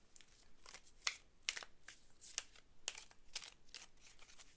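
Tarot cards being shuffled by hand in bursts of soft riffling and crisp slaps, irregular and close, with no talking.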